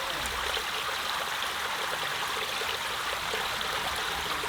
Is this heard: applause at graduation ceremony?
no